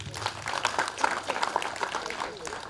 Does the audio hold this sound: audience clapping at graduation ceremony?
yes